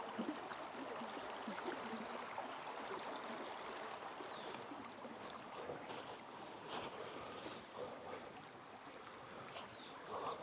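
A river in Argentina flowing with low water, a soft, continuous wash and trickle heard from nearby, fairly faint and steady.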